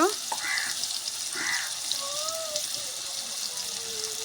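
Onion frying in hot oil in a pan for a home-cooked fish curry, giving a steady, even sizzle throughout, with a few faint voice sounds over it.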